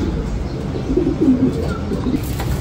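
Racing pigeons cooing after arriving at a loft from a summer derby race, low soft repeated coos close by over a steady background hum.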